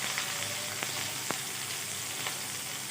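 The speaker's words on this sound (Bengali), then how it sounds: "টমেটোটা আমি ভেজে নিব" Chopped tomatoes fry in oil with black cumin, giving a steady, dense sizzle that runs throughout, with a few faint clicks of stirring and no voices.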